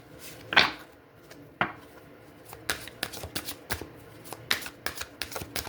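Tarot cards are shuffled close by in quick riffles and shuffles. Crisp, papery bursts repeat at an uneven rhythm, with a louder riffle near the start and a run of rapid taps later. No one speaks.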